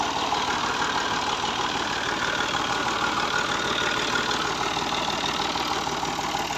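A Made in England 135 tractor engine idling steadily, a continuous close mid-to-low rumble with even rapid knocking pulses and no voices.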